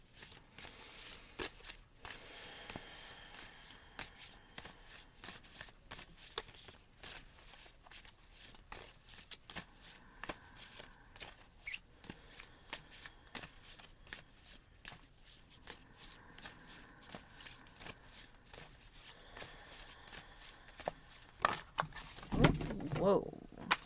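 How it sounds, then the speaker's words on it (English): Oracle cards being shuffled close by, crisp flicking riffles that come in bursts, ending in a louder scuffling clatter. "we'll just shuffle these cards"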